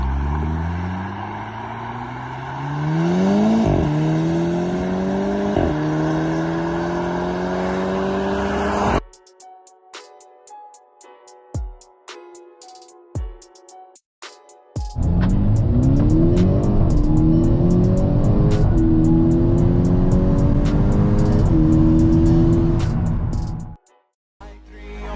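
A VW Golf 6 GTI Edition 35 engine revs hard and accelerates, the pitch climbing through several gears, then drops to a quiet stretch of short blips and pops before roaring loudly again up close.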